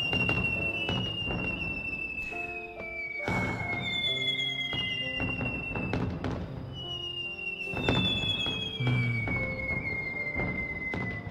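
Fireworks in the video game Natsumon, with a player-designed sunflower moon-trip shell among them: whistling rising tones falling in pitch, followed by booming thuds and crackling bursts, repeating several times in a loud sequence with no talk.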